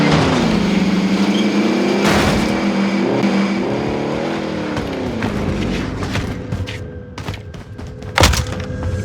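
Vehicle engine in the Warzone video game while driving, a loud steady motor drone with shifting pitch as the car accelerates, a heavy thump near the end, and no talking.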